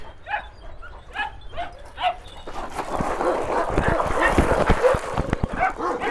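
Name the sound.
dog barking and whimpering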